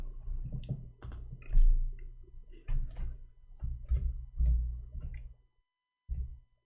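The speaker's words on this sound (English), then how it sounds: "Oops, I'm typing in English." Typing on a computer keyboard, a close series of irregular clicks and taps in short bursts with brief pauses, ending in a moment of silence before a final keystroke.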